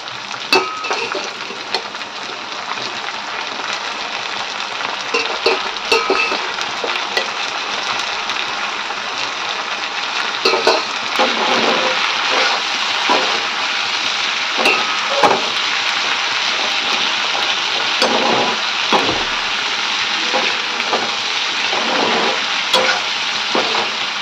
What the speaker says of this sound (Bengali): এবার বিনসগুলো তুলে একটু সাঁতলে নেব